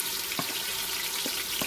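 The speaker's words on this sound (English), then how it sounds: "So we gotta saute the onions and the garlic" Onions and garlic sautéing in a pan for spaghetti sauce, a soft, steady broadband sizzle with a few faint clicks, quiet and uninterrupted by speech.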